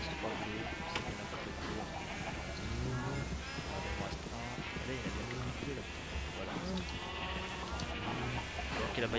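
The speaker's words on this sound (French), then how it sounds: "J'ai des moutons de toutes les couleurs." Sheep bleating in the Minecraft video game, several short bleats scattered over a busy mix of game sounds while people chat in French throughout.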